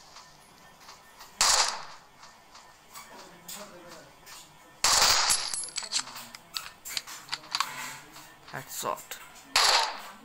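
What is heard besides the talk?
gunfire in a video game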